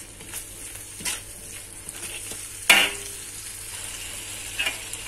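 Rice vermicelli being stirred as it fries in a wok with squid, steady low sizzle with scraping stir strokes and a sharper clatter midway, close and alone without talk.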